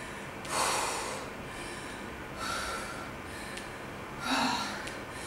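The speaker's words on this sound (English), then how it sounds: "Deep breathing." Deep, forceful breaths during a calf-raise leg workout, three loud rushing exhales roughly two seconds apart, close to the microphone, with no talking.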